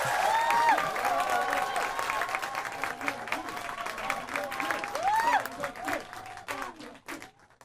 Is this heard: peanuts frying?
no